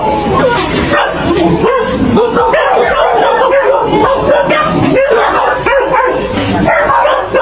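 Several dogs yip, bark and whimper in an agitated, continuous clamor nearby.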